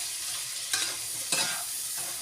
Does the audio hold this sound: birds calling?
no